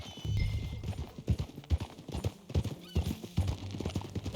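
Horse hooves in Red Dead Redemption 2, a steady clip-clop of a riding horse close by, with a whinny near the start over soft outdoor ambience.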